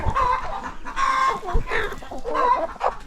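Chickens cluck and squawk on a poultry farm during a morning inspection. Several birds call close by in uneven bursts with short pauses between them, and there is some rustling in the background.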